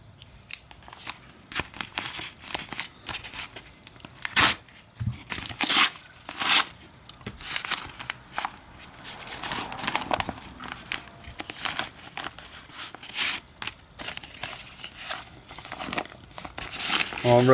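A cardboard parts package for a Sig P938 pistol is cut and unwrapped up close, with repeated sharp snips, tearing and crinkling of packing material in irregular bursts, and some quiet talk.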